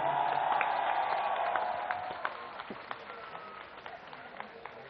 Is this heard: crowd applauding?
yes